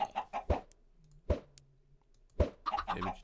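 Short clucking calls from chickens in modded Minecraft, a few quick sharp bursts separated by quieter gaps, with a low sustained tone underneath, like game sound effects.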